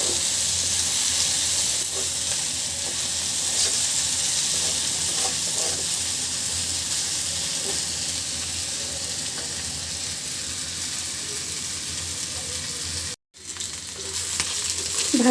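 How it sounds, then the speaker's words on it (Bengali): Onions fry gently in a pan for a spicy fish bharta, giving a steady, loud sizzle and hiss throughout, with one short break near the end. "ভর্তার জন্য যেহেতু পেঁয়াজটা ভাজি করছি, পেঁয়াজ শক্ত করব না, নরম নরম থাকবে,"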